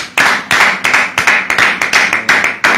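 Rhythmic clapping from a church congregation, roughly a dozen sharp, even claps in a steady beat, close and loud, with no talking over it.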